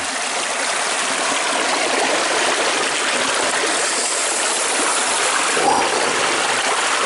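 Water and gravel rush continuously down a small portable gold sluice outdoors, a loud, steady broadband wash like a close stream, with no voices over it.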